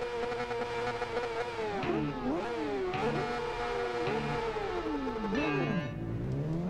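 A Suzuki GSX-R600 SRAD sport motorcycle in the RIDE racing game during a drag race, its engine whining loudly and continuously as it revs up through repeated rising gear sweeps with brief drops between shifts, with no talk over it.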